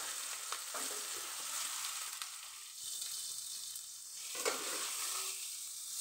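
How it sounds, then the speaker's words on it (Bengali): Chopped onions sizzle steadily in hot oil with a single chili in a wok for tarka, a continuous close frying hiss broken by occasional stirring scrapes and clinks. "পেঁয়াজটা ভাজা গেছে"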